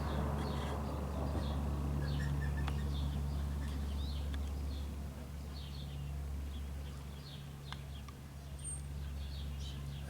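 Short, sparse prairie dog chirps and squeaky calls pop up now and then over a steady low hum and rumbling background, faint and somewhat distant.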